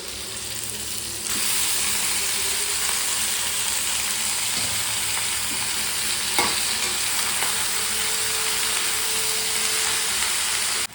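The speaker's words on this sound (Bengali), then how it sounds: "এই যে আমি হচ্ছে বাঁধাকপিটা একটু সিদ্ধ করে নিয়েছি, এখন রান্না করবো। এই যে বাঁধাকপিটা দিয়ে দেবো।" Boiled cabbage is stir-fried in a hot pan, giving a loud, steady sizzle and hiss that carries on without a break, with an occasional scrape of stirring and no voices.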